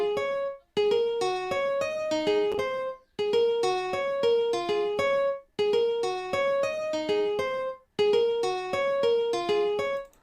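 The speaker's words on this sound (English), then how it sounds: "So I went on ahead and I added like an acoustic guitar sound." Plucked acoustic guitar pattern programmed in FL Studio for an Afrobeat, four repeating bars of bright picked notes with short gaps between each phrase, alone and upfront.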